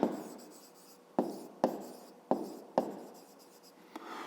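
Handwriting on paper while working a fifth-grade math exercise: pen strokes and taps come in several distinct scratchy bursts, close and quiet, with no speech.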